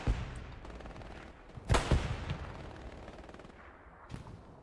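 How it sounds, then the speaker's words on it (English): Tank fire in the video game Hell Let Loose: a loud close blast bursts out mid-scene, with a second fainter shot near the end, over a constant rumble of battle and scattered gunfire. "They got tank fire hitting up there."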